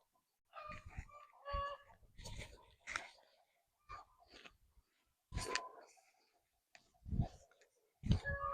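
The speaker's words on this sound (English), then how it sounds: "You'll hear my chickens going insane. Someone laid an egg." A backyard flock of chickens in a Zone 9A Northwest Florida garden clucks and squawks loudly in excited bursts after one lays an egg, the cackling rising and falling in repeated loud calls close by.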